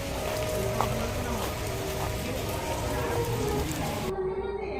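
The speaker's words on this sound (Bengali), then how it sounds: "বৃষ্টি পড়ছে।" Steady rain falls with a constant dense hiss, close and even throughout, with a few faint background voices underneath, during Ashtami festival outings.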